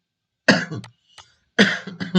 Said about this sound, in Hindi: खांसी आ रही है बोलते हुए।